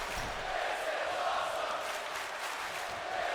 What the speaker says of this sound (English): This is awesome chants in the crowd as this match has just begun.